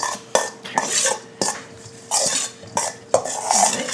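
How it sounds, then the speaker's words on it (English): A spoon scrapes and clinks around a bowl while a seasoned mixture with black pepper is stirred, in several close, loud bursts separated by brief pauses. "Mix that up."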